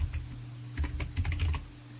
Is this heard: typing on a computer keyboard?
yes